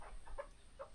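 A village free-range hen clucks in short bursts, two brief calls about half a second apart, faint and close against a quiet outdoor background.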